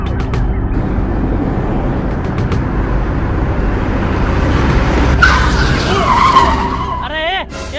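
A motorcycle skids on a road, with a sharp tire squeal rising near the end over a loud, steady rumble of traffic-like noise while people talk.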